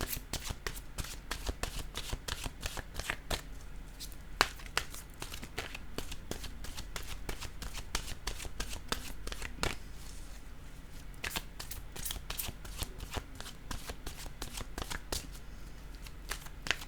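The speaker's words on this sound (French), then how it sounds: "Je vais maintenant piger une carte pour terminer de mon oracle de l'âme intuitive Scorpion." A deck of oracle cards is shuffled in a brisk, steady run of sharp riffling snaps and flutters, heard close and alone.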